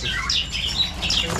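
Several birds at a roadside bird shop in East Java chirp and whistle in short bright phrases over a low steady background rumble, with no talk.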